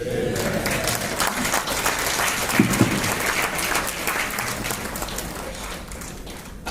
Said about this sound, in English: I'm sure that clap is for Aremo Shego Oshaba.